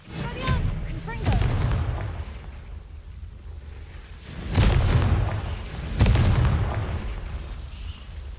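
Confringo blasting spells burst in Hogwarts Legacy as several booming explosions, loud and close, each followed by a rumbling decay, with a spoken voice woven among them.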